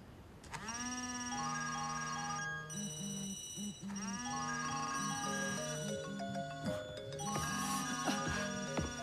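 Several phone ringtones trill and chime at once, overlapping melodic electronic tones layered densely and steadily throughout, with no talking.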